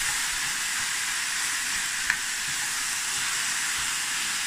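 Ostrich mince frying in a pan on a Faber appliance, giving a steady, close hiss of sizzling throughout, with one faint clink partway through and no talking.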